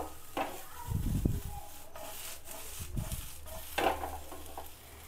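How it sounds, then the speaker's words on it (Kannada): Chicken pieces fry in a pan for a salad, a soft, steady sizzle broken by low scraping and stirring rubs, fairly quiet and without speech. "ಒಂದು 10 to 15 ಮಿನಿಟ್ಸ್ ಫ್ರೈ ಮಾಡಿಕೊಂಡ್ರೆ ಸಾಕು."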